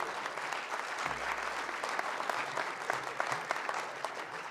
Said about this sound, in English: give them applause, please